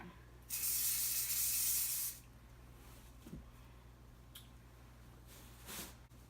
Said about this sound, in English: I'm gonna take this lock spray and spray the edge of the foam